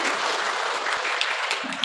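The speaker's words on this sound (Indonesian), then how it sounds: "Tepuk tangan dong untuk Romo Haruno." A church congregation applauds its parish priest during a homily at a cathedral, a steady, fairly faint wash of many hands clapping.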